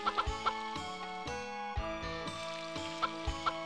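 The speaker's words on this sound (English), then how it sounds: "This side, we'll take care of our chickens." Chickens cluck in Harvest Moon 64, the game's synthesized fowl calls repeating in short bursts over tonal background music, with no talking.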